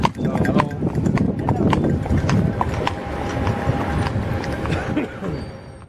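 Horse hooves clip-clopping in a quick, uneven rhythm on a hard surface, fairly close, at a horse riding establishment, with faint background voices and outdoor noise.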